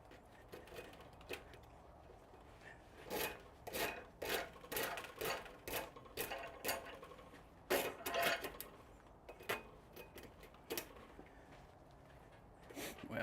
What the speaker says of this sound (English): this rasp is not going to work with that shape